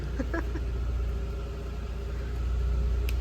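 A Seat Ibiza Cupra with a 1.8T 20VT engine idles steadily, a constant low rumble with faint intermittent clicks, close and unbroken, with no talk over it.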